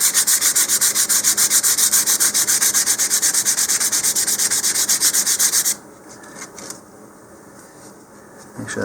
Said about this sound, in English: So first I'm just going to sand that seam